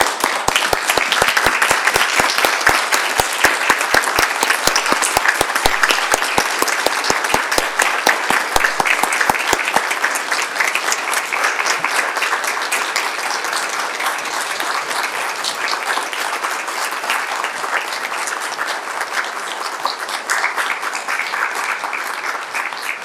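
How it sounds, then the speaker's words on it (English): A city council chamber audience in Murrieta gives a man a sustained standing ovation, with dense, loud clapping that carries on for over twenty seconds and gradually thins. "everybody in the city had a chance to stand up and applaud and give this man the applause that he deserves"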